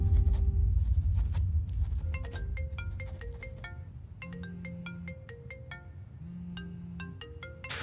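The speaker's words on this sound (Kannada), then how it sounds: "ಫೋನ್ ಯಾರ್ದು ರಿಂಗ್ ಆಗ್ತಾ ಇರೋದು?" A mobile phone rings indoors, its electronic ringtone playing a repeating melodic pattern of short bright tones at moderate volume, with a low rumble underneath at the start and a sudden sound at the very end.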